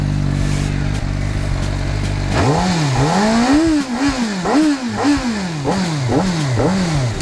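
A CF Moto 500SR motorcycle engine idles, then is revved repeatedly in quick rhythmic bursts, each rise and fall loud and close.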